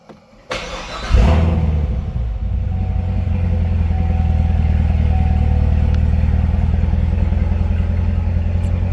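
A Chevrolet Corvette C7 Z06 engine cranks briefly, then catches with a loud bark and settles into a steady, deep, rumbling idle that carries on alone, close up.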